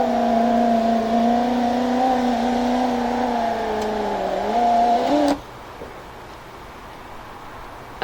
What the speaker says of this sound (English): if I run the motor, just off the battery here